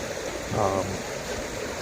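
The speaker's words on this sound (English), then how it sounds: "Nothing like being over that creek." Steady rush of creek water flowing over stones beneath a bridge in Muir Woods, a continuous close babble with a brief louder gurgle.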